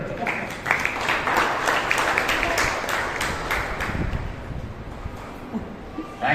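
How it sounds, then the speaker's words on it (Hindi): Audience at a magic show with young children claps hard, a dense, steady patter of many hands that holds for several seconds before thinning out, with a voice briefly audible underneath. "क्लैपिंग बहुत देनी चाहिए, जोरदार क्लैपिंग।"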